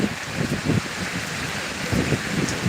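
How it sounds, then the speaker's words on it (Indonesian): Steady rain falling outdoors at sunset after a hot day, a dense even hiss with soft pattering, close and moderately loud, with no voices. "hujan-hujan perdana."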